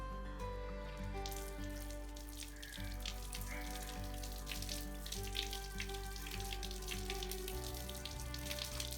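Water runs and splashes while aloe vera leaves are washed, a soft continuous trickle over a steady low hum with faint clinks, quiet and without talk.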